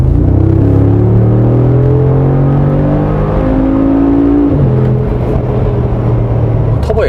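A Mercedes-AMG G 63 Edition turbocharged engine accelerates hard, a loud close rumble with rising harmonic tones that climb through the revs, drop briefly at a gear change, then climb again without interruption.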